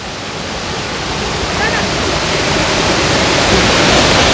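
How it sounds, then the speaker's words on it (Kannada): Water rushes over the top of Dudhsagar waterfall in summer with reduced flow, a loud, steady roar very close by that slowly swells. "ನೋಡಿ ಇಲ್ಲಿಂದ ನೀರು ಹರಿದು ಬರ್ತಾ ಇದೆ."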